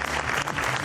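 Audience applause at a public debate in the Espal hall in Le Mans, a brief dense burst of clapping that stays steady and fairly loud from start to finish.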